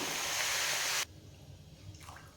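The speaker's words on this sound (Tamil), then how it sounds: "பாலை வந்து ரவியில் ஊற்றிக்கலாம்" Milk pours into semolina and sugar for halwa with a loud, steady rushing splash close by, which stops abruptly after about a second and leaves faint clinks and a low hum.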